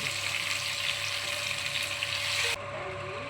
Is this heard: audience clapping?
no